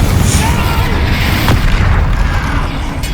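A Confringo spell explosion in the Hogwarts Legacy video game, a loud, dense booming blast that fills the whole moment, with a sharp crack midway.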